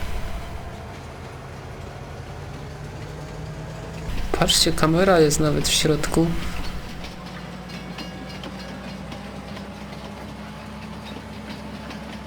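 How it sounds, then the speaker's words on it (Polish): A train in the farming video game Farming Simulator 19 rumbles along at a steady low level, then swells for about two seconds with a squealing, warbling burst before settling back. Someone talks over it. "Wychodzi na to, że pociągiem w tej grze można jeździć."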